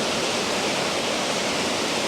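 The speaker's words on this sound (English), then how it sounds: "It's an amazing waterfall." A Welsh waterfall roars in a dense, continuous rush of falling water, loud and close, with no voices over it.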